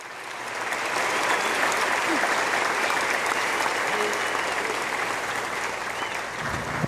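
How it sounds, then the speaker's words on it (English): An audience applauds soldiers at an infantry graduation ceremony at Fort Benning, Georgia: steady, dense clapping from a large crowd that swells in the first second and holds at an even level for about six seconds. "please join us in giving these fine soldiers a round of applause"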